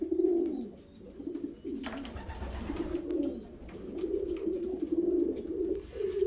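Racing pigeons cooing in a loft, a steady low murmur of overlapping coos from several birds close by, continuous throughout with a brief rustle partway through and no talking.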